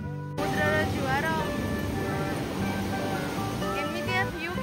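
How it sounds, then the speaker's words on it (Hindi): Sea waves at a beach in Odisha, a steady close roar of surf under voices talking. "समुद्रर जुआर"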